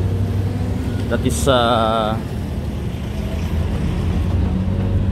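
Steady road traffic roars at the busy crossing of C1 and Diversion Road in Iloilo City, with a short horn blast early on and a voice speaking briefly over the noise.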